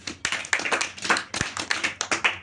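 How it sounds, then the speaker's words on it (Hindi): Children clap their hands in a classroom activity: a run of about a dozen close, sharp claps in an uneven rhythm, with no talking over them. "जिसके लिए ताली बजाओ"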